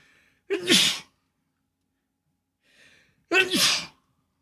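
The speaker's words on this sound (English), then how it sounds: "You sneezed." Two sharp, close sneezes about three seconds apart in a Tex Murphy: Mean Streets game scene, each a quick intake followed by an explosive burst, with near silence between them.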